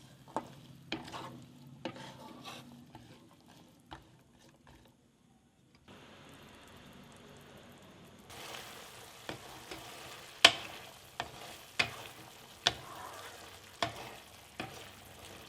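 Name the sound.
chana cooking and stirring in a pan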